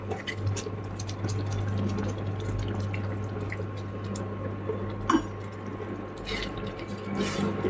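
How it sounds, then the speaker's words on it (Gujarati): About half a glass of water trickles and splashes into a pan of dhaba-style sabzi gravy, a soft liquid gurgle with a steady low hum running underneath. "હવે આપણે એમાં જરૂર મુજબ પાણી રેડીશું"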